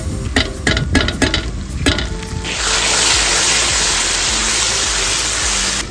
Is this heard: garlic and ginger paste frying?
yes